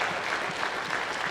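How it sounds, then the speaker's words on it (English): An audience at an event about a legislative bill claps in a short burst of dense, steady applause. "Give yourselves a round of applause."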